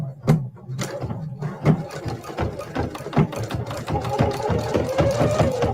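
A sewing machine stitching flange binding on a quilt, a close, steady mechanical chatter with rhythmic thumps, running continuously after a brief backstitch.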